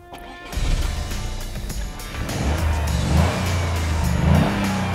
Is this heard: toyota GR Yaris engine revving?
yes